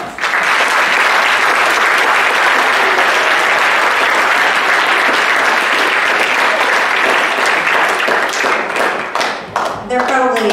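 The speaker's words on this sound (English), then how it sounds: "I think they deserve a big round of applause." Sustained, loud audience applause at a poetry coffee house event, dense clapping filling the room and tapering slightly near the end with scattered final claps.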